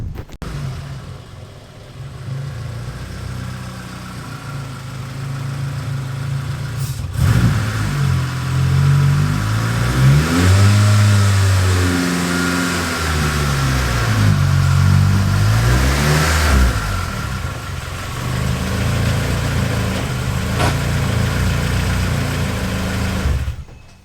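A car engine idles, then revs and pulls forward as the car is driven slowly up onto a trailer, loud and close, with the engine note rising and falling over several throttle blips before settling back to idle.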